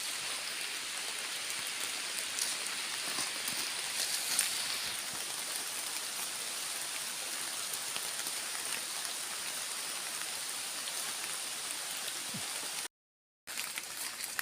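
Steady rain falls outdoors during a mushroom foraging trip, a dense continuous hiss of drops on the surroundings. It stays even and fairly loud throughout, with no voices and a brief dropout near the end.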